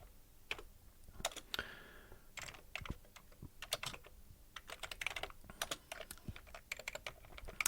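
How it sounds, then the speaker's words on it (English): Someone typing code on a computer keyboard in irregular bursts of close, crisp key clicks with short pauses, steady and moderately quiet, no voices. "I'm going to type it like this"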